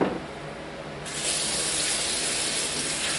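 Hands are washed under a running kitchen tap during home cooking, a steady hiss of flowing water that grows fuller and louder partway through as the stream meets the hands.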